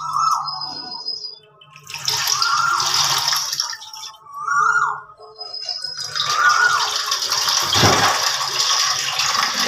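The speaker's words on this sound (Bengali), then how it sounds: "এই চাল ধুচ্ছি" Rice being rinsed in a pot: water swishes and pours in uneven surges, while a cuckoo calls repeatedly in the background between the splashes.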